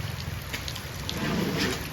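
Rain falls steadily outside a flooded home, a soft, even hiss of drops at moderate distance, continuous and unaccompanied by voices.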